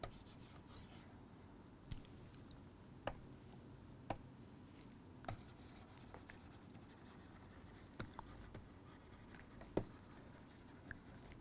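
Marker or chalk on a board during a lecture gives faint, sparse taps and short strokes at irregular intervals over a quiet room hum, with no talking.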